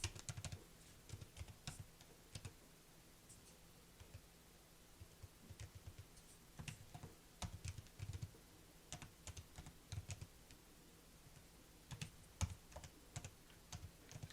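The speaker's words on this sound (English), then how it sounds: "As I'm typing this" Someone types quietly on a computer keyboard, tapping keys in irregular clusters of clicks with short pauses in a hushed room.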